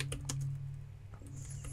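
Short run of keystrokes on a computer keyboard while a website address is entered, a few quick soft clicks over a steady low hum, fairly faint and close.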